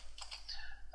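A computer keyboard typed on during a repair at a command prompt: a few quiet, quick key taps over a low steady hum, faint and close.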